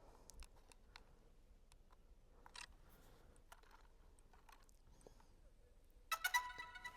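A DJI Mini 3 drone plays its startup sound, a short bright electronic chime of a few rising tones, near the end after a quiet stretch of faint clicks and handling noises.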